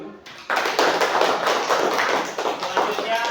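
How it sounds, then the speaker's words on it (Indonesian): A class of students claps hands together after a group's presentation, a dense burst of many hands that starts abruptly and keeps going steadily, loud and close. "Kita tepuk tangan dulu."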